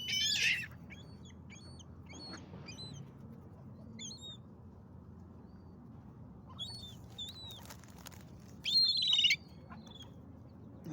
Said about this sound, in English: but these little ducks have come in